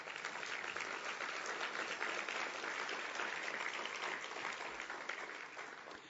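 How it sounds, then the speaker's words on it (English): Sustained audience applause fills a plenary session at a Hispanic heritage education and workforce event, dense steady clapping from many hands that stays loud throughout and tapers slightly at the end. "Please give them a big round of applause."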